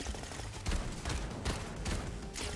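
Gunfire in Fortnite, a few broadband bursts spaced irregularly over a steady mid-level game background, fairly close and moderately loud, with no voices.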